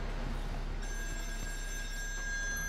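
In the video game Still Wakes The Deep, a telephone rings steadily over a low engine-like hum, a continuous bright tone that stands out clearly without voices.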